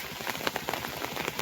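Rain falling outdoors, a soft steady patter of drops striking a surface, faint and continuous with no voices.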